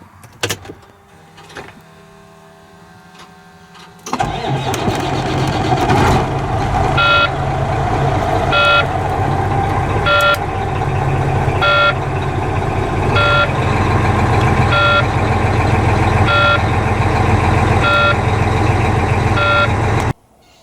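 Volvo VNL 780 truck backing a trailer into a service bay, its reversing alarm beeping in a steady regular rhythm over loud, continuous diesel engine rumble that starts abruptly after a quiet opening.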